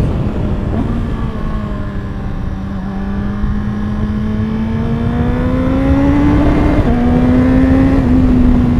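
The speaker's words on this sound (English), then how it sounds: "I love the clutchless downshifts." BMW S1000RR sport motorcycle with a quick shifter working down through the gears without the clutch, its engine note falling and rising in pitch through a couple of quick downshifts, loud and close over wind rush.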